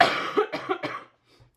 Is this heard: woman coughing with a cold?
yes